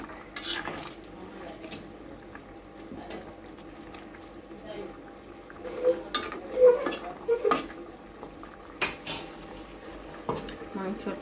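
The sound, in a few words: stirring spices with coriander powder in pan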